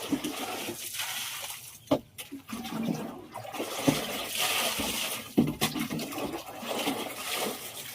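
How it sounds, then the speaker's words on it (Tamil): Water is drawn out of a home fish tank, a steady close gurgling and rushing with sharp knocks and splashes scattered through, and no voices. "இப்போ நம்ம வந்து இதில் இருக்கிற வாட்டர் எல்லாம் எடுக்க போகிறோம் மக்களே"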